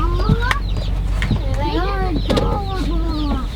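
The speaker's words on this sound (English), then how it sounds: "What do you hear back there? Chickies." Chicken sounds from a newly delivered batch of baby chicks riding in the back of a vehicle: repeated rising peeps and clucks, close and steady, with people talking over them.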